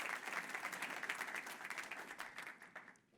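Audience applause for a speaker just introduced at an Economic Club event, a steady wash of many hands clapping that holds throughout at moderate, slightly distant volume.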